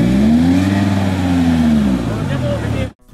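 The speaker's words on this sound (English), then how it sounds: "BMW pulling in." A BMW car pulling in close by, its engine giving a loud, steady hum that gently falls in pitch before cutting off abruptly, with talk over it.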